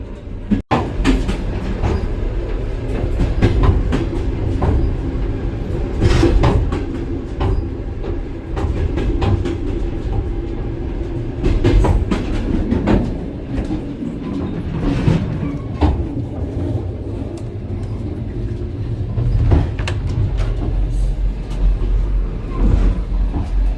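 Sleeper train travelling from Poland to Ukraine, heard from inside the carriage as a loud continuous rumble with repeated clickety-clack wheel beats and occasional knocks over the whole stretch, with no talk.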